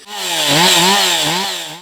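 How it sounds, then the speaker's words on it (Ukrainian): A chainsaw engine runs steadily for a couple of seconds during a brief warm-up at a forest felling competition, its pitch wavering up and down as the throttle is blipped, loud and close. "Короткий прогрів бензопили."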